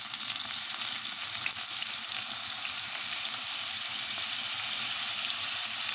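Chopped tomatoes fry in hot oil in a pan for Moroccan tktouka, giving a loud, continuous close-up sizzle with faint crackles throughout and no voices.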